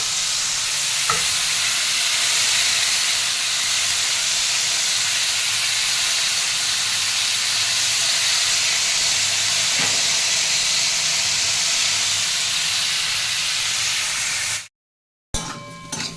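Vegetables frying in a covered pan, a steady close hiss and sizzle with faint crackles that holds for about fifteen seconds, then cuts out briefly before resuming.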